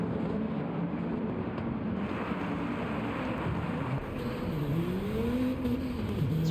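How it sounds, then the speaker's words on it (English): An 80s Peugeot race car in a racing video game drives continuously, its engine droning loud and close, with pitch swells and dips as it revs through turns. "Sturm sending it in the 80s Peugeot"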